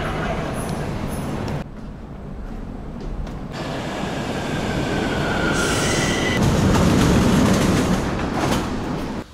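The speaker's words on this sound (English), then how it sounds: "So the metro station here is called Tudor Vladimirescu" A metro train at Tudor Vladimirescu station in Romania rumbles loudly past with a steady roar, wheels squealing at high pitch partway through.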